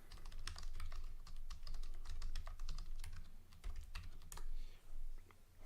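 Someone types a comment on a computer keyboard, a quick uneven run of crisp, close key clicks with short pauses and bursts, with no talking.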